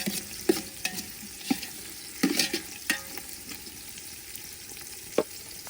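Onions frying in a pan until golden brown for a chicken gravy, a steady sizzle broken by several sharp stirring scrapes and clatters, close by with no voices.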